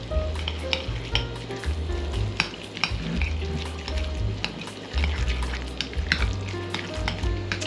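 Smoky aioli is stirred briskly in a bowl, a continuous wet scraping and mixing texture with frequent small clicks, close and steady with no speech.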